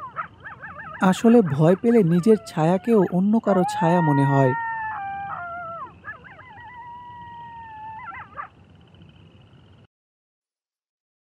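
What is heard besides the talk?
dogs and jackals howling at night, sound effect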